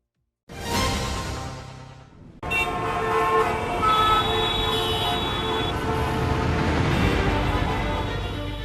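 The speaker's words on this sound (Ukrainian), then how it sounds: "Восьма ранку, а район привокзальної класично вже у заторах." Morning traffic jam near a railway station: car horns toot close by, first one long blast, then a busy stretch of overlapping honks over the steady rumble of road traffic.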